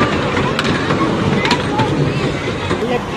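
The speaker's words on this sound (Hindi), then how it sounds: "रेल आ गई, रेल आ गई," A small electric ride train arrives at a fair with a steady rumble and scattered clicks and clatters. Fairground voices sound nearby throughout.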